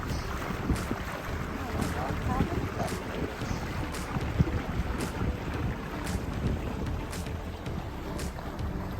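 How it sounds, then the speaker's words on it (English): A boat passes on the water near St. Augustine, Florida, its engine a steady rumble mixed with water noise and buffeting wind on the microphone throughout, with a faint voice now and then. "Oh, and another boat."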